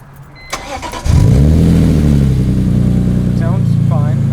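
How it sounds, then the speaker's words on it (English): A BMW E46 M3 starts up with a brief cranking whir, then the engine catches with a loud rise and settles into a strong, steady idle, with a couple of faint chirps late on. "we're gonna go ahead and start up the car"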